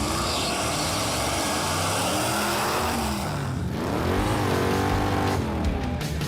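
A Roadkill project hot rod drives by with a loud, steady engine roar, its pitch sweeping as it revs and accelerates near the end.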